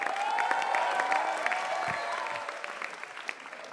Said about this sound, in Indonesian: Tepuk tangan sekali lagi untuk Ernest Prakasa.